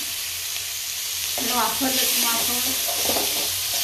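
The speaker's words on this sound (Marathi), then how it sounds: "कांदा टोमॅटो वरती कच्चा टाकण्यापेक्षा थोडंसं परतलं ना" Onion and tomato sautéing in a pan for a pizza topping, a steady loud sizzle with stirring scrapes, and a voice briefly talking over it in the middle.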